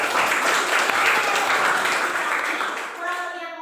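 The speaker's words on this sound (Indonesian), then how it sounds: "Kita berikan tepuk tangan untuk kelompok 1." A classroom full of people claps steadily for a few seconds for a presenting group, the applause fading as a voice starts to speak near the end.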